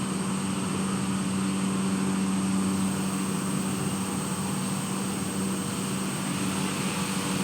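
An airplane cruising in flight, a continuous steady engine drone heard from inside the cabin, even and unbroken with no voices.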